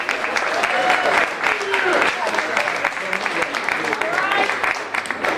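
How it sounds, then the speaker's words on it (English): Audience applause in a room at a high school hospitality suite grand opening, greeting a chef; dense steady clapping fills the whole stretch, with voices mixed in underneath. "Give her a round of applause."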